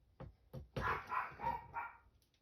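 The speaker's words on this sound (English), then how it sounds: "My dogs, love them." Dogs bark in a quick series of five or six barks, rising from short yips to fuller woofs, fairly distant and fairly quiet, with no talking.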